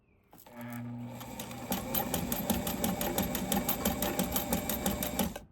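A Fashion Mate 257 sewing machine stitches with fast, even mechanical clatter, starting as a short hum and settling into a steady rapid rhythm of needle strokes for several seconds, close and fairly loud.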